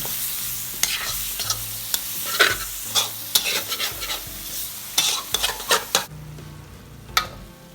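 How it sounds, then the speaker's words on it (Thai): Pork belly stir-fries in oil, sizzling steadily in a pan while a utensil scrapes and stirs in repeated bursts, close and fairly loud, with clinks of metal on the pan. "เติมน้ำเปล่า ผัดให้หมูสามชั้นรัดตัวเลยนะคะ"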